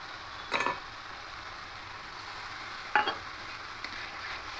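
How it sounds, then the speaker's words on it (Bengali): Spice paste for a fish roe curry fries in a pan with a low continuous sizzle, broken by two brief scraping stirs of the spoon. "দিয়ে আরও ভালো করে এটা কষিয়ে নেব।"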